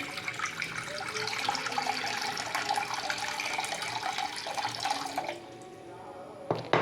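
Water poured into a pressure cooker pot for boiling whole taro roots, a continuous close splashing stream that stops near the end, leaving quieter room sound and a brief clatter.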